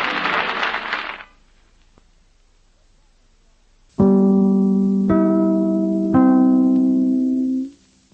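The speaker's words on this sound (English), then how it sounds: "Three chimes mean good times on NBC." NBC's three-note chimes on old-time radio ring out as three distinct struck bell tones in sequence, each sustaining and overlapping before fading, preceded by applause and a short pause.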